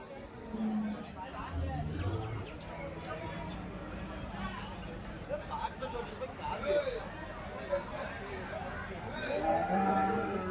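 Native cattle at a livestock market, with lowing and moos rising over a busy crowd murmur and people talking nearby throughout.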